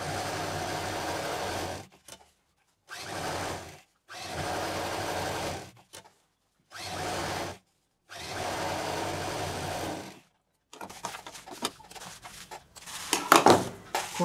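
A sewing machine stitches piping onto a fabric bag made from leftover cloth, running in five loud bursts separated by silent pauses, then lighter clicks and handling at the end.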